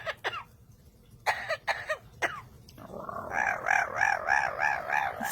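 A parrot imitates coughing with a few sharp, hacking bursts, then breaks into a run of rhythmic, wavering calls. All of it is close and moderately loud.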